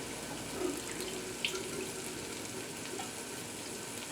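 Water is drained off stored potatoes into a kitchen sink: a soft, continuous splashing flow up close, with a couple of small knocks.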